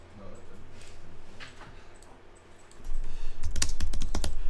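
Keystrokes on a computer keyboard, faint and sparse at first, then a rapid run of louder, close clicks near the end.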